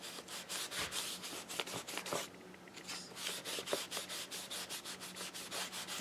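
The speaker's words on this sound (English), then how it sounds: "So I'm just taking this cloth and smoothing everything out." A cloth is rubbed across paper to smooth it flat during scrapbooking. The close, dry swishing strokes repeat steadily, with no talking.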